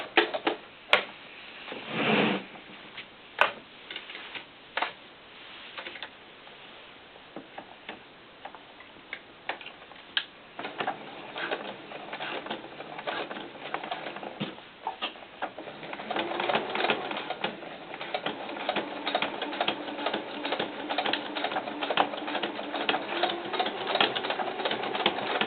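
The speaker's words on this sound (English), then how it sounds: "we're just going to sew from here to here" A sewing machine stitches a quarter-inch seam on a floral doll skirt, fast even mechanical ticking that starts sparse and picks up into a steady close whirring run.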